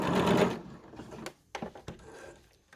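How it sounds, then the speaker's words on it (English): An overlocker stitches a dart on a T-shirt, running in a loud, brief burst up close before it stops and gives way to a few small handling clicks and fabric shifts. "do some more stitching"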